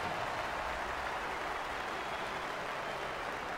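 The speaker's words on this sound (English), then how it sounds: "that's the reason you're hearing this crowd reacting the way they are" A college football stadium crowd roars in a steady, broad wash of noise during a Kansas State at Oklahoma State game, sustained and even without distinct voices standing out.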